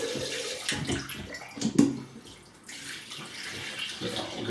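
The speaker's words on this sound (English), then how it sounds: "We'll get some warm water in the sink." Warm water runs from a tap into a bathroom sink before a wet shave, a steady close rush of flowing water with a brief splash and a soft clunk of the tap partway through.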